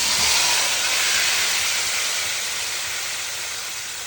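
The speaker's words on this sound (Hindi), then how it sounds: "जी ये हमारी कड़ी है, इसमें हमारा ये तड़का जाने लगा।" Hot tempering oil hits a pot of kadhi with a loud, broad sizzling hiss, close and continuous, slowly fading over a few seconds without talk.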